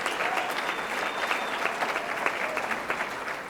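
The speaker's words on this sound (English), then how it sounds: "please give them a round of applause." An audience at a USA Gymnastics Hall of Fame ceremony claps steadily, a dense, even wash of applause filling the hall from start to finish.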